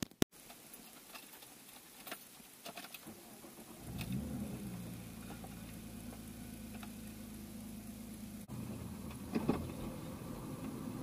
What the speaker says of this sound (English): So now we're going to take it for another drive and see how it goes.